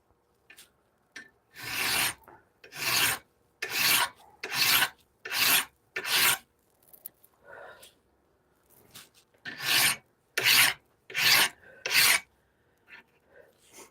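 A hand-forged Bowie knife blade is worked with a hand file, rhythmic close rasping strokes in bursts of several, with short pauses between sets.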